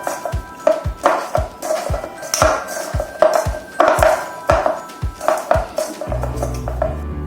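A utensil beats eggs with red chilli and turmeric powder in a bowl, tapping and clinking against the side in a steady, quick rhythm of about a dozen strokes, close and clear.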